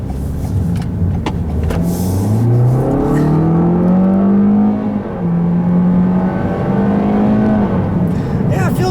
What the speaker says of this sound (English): I'm going to put it into sport mode here, and let's see about this acceleration from a stop.